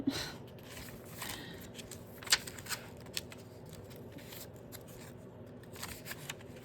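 Scissors snipping through embossed paper at close range, a series of crisp cuts and papery rustles in an uneven rhythm with a few sharper snips.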